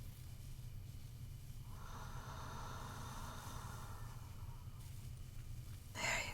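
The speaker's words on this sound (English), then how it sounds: "And follow my breathing." Slow, calm breathing, soft and close in a quiet sleep-aid setting: one long, gentle exhale drawn out over several seconds, then a short, sharper breath at the end over a faint low hum.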